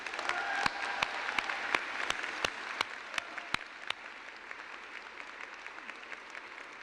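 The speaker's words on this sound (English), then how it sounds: "Let's all recognize them with a huge round of applause" Audience at a university convocation ceremony giving a steady round of applause, many hands clapping together with a few louder single claps standing out, heard from a distance in a large hall.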